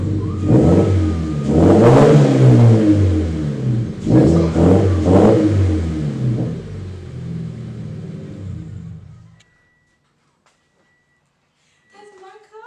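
A hyper blue Subaru BRZ with its muffler deleted revs loudly up close, rising and falling through several throttle blips before cutting off into near silence, followed by a brief faint tail of sound at the end.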